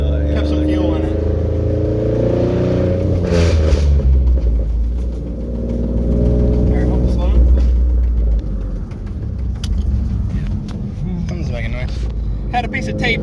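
A turbocharged 3.7-liter V6 Mustang, tuned with a mild burble, rumbles steadily while being driven, its engine drone continuous and close throughout, with a brief surge of revving partway in.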